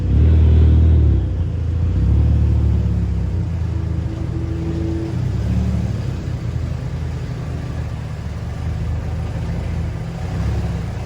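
A VW MK5 Golf GTI idles and creeps forward into a garage with a low, steady engine rumble, a brief throttle rise at the start, then settling into a constant, close hum.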